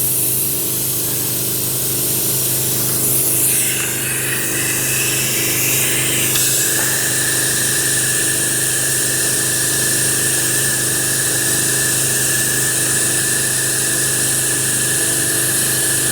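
An air pump inflates an old tractor tyre outdoors, giving a loud, steady hissing rush of air that runs continuously with a faint mechanical hum underneath and a brief shift in pitch early on.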